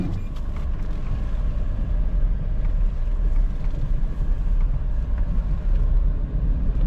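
A 2015 Perodua Axia 1.0 SE automatic on a test drive, its engine and road noise forming a steady, loud low rumble throughout with no talking.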